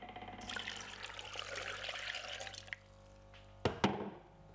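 Water pours steadily for a couple of seconds and then stops, followed by a few sharp clunks and knocks nearby.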